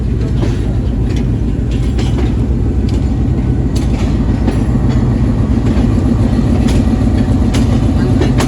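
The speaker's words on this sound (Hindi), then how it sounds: "लोकोमोटिव आ चुका था तो अब यकीनन ब्रेक भी लग गया होगा।" A locomotive and its train rumble steadily at a railway junction in Pakistan, a loud continuous low clatter with faint wheel clicks throughout and no talk.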